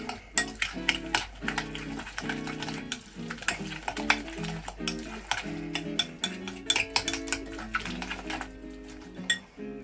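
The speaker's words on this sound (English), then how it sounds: "give that a good stir" A salted rhubarb mixture is stirred in a pot, the spoon scraping and clinking against the metal in a steady, busy rhythm for several seconds, with no talking.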